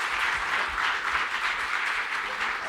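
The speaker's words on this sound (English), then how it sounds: "can we give one more applause for Eric and the team?" A conference audience at a space-tech event applauds the organizers with steady, dense clapping throughout, fairly loud and continuous with no break.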